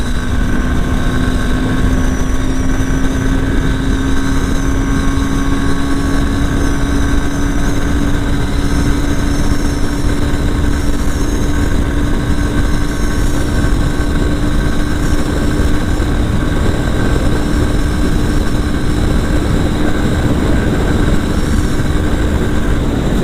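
Honda Hornet 2.0 motorcycle engine revving steadily at high speed in fifth gear, a loud continuous drone with a rising tonal whine and wind roar throughout.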